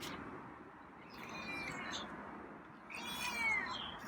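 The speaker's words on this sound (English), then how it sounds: "I think he meowed." A feral cat meowing outdoors, two faint drawn-out meows a second or so apart, the second louder and rising, over quiet background ambience.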